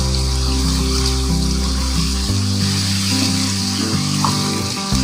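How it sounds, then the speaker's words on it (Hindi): Onion paste and chicken fry in a karahi, giving a continuous loud, hissing sizzle over a low steady hum for about five seconds, with no talk. "अब मैं इसमें प्याज जो मैंने पेस्ट किया है इसको ऐड करूँगी।"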